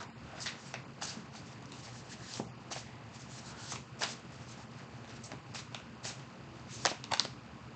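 Tarot cards are shuffled up close in a steady run of soft riffling flutters, quiet and continuous, ending in a couple of sharper snaps, with no speech.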